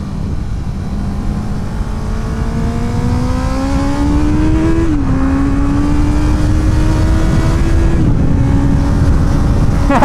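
Honda CB650R motorcycle on a race track, loud close engine with a rising whine that drops sharply at each downshift, steady roar throughout with no talk.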